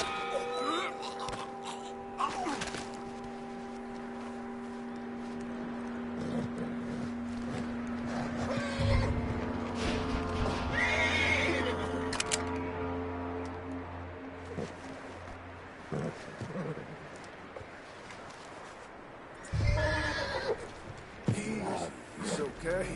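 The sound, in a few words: horse neighing, video game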